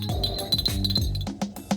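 A spoon clinks repeatedly against a glass while stirring sour cream, a quick run of bright ringing taps, close and clear, then a few slower separate clinks.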